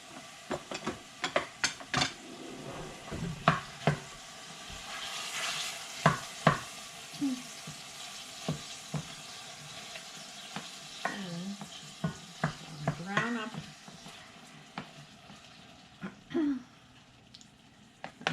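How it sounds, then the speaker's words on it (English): Ground meat and plenty of onions browning in a pan, a steady low sizzle broken by frequent clinks and scrapes of a utensil stirring, close up and without talk. "Brown up the meat and the onions. A lot of onions."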